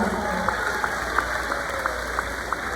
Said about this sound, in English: Let's give Ripa a round of applause.